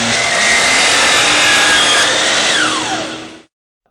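A DEWALT miter saw cuts through crown molding, its loud, steady whine holding for over three seconds before the blade finishes and the sound cuts off abruptly into silence.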